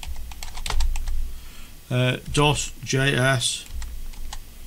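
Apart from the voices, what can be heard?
typing a command on a computer keyboard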